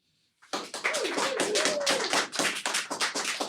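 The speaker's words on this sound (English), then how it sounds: "Please, a generous and warm round of applause for Kate Cheka." A small studio audience breaks into applause for a guest after silence, with distinct, fairly quick individual claps and a brief vocal whoop rising over them early on, continuing steadily to the end.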